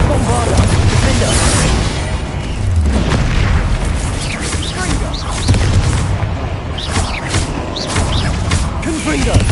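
Magic blasts from the Bombarda and Confringo spells in Hogwarts Legacy: repeated heavy booms and crashing bursts with whooshes, loud and close, over a steady game soundscape.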